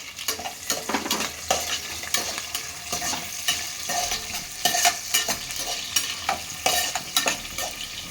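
Onion fries in spiced oil for chicken biryani, a continuous close sizzle broken by frequent scraping and clinking stirs of a spoon against the pan, with no talk.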